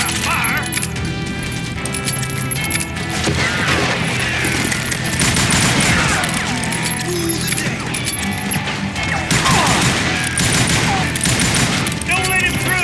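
Bandits firing in Call of Juarez: Gunslinger, a loud, dense fusillade of rapid gunshots layered with ricochets and clinks, continuous throughout amid shouted voices and game music.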